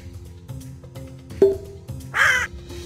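A cartoon dodo bird lets out a loud, harsh squawk that stands out against a bouncy children's alphabet music track.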